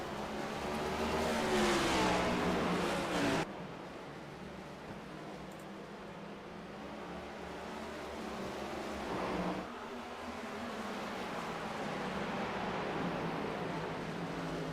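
Race cars accelerating on a restart, a loud engine surge and roar at the start that drops away, followed by more distant engine drone and a second swell, no talk.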